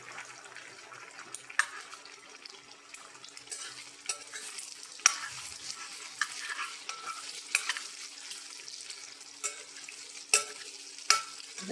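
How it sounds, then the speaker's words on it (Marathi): Two eggs salted and frying in oil in a pan, a steady soft sizzle with scattered scraping clicks of a spoon stirring them, moderately close and fairly quiet, no voices. "आता ही अंडी चांगली परतून घेऊया."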